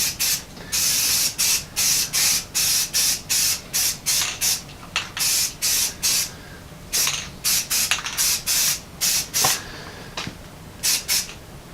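Green paint sprayed from a rattle can onto a part of a Ford AA Doodlebug project, a series of short loud hissing bursts in quick irregular succession with brief gaps between them.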